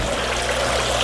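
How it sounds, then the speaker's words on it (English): Water runs steadily into a live bait tank for minnows, giving a continuous, close, rushing and splashing wash with no talk. "Got the water"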